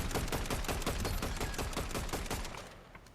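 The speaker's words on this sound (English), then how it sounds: "I don't mind wasting all my ammo on you, boy." Rapid machine-gun bursts in Fortnite, a fast loud string of shots that fades out near the end, with no talking.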